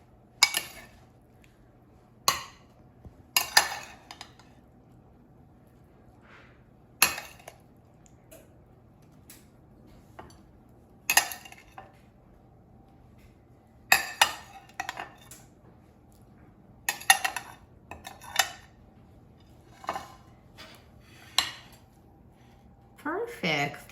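Metal utensils clink and scrape against a plate as microwaved eggplant is served, coming in scattered sharp taps and clatters with quiet gaps between them.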